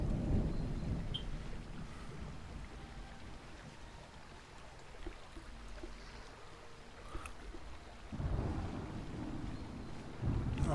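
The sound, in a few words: thunderstorm in the video game Smalland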